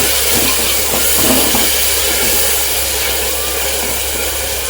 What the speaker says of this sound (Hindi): अब इसमें डाल रही हूँ 1 बड़ा टमाटर और 1 मिर्ची के टुकड़े किए हुए। अब इसको थोड़ा भूनूंगी।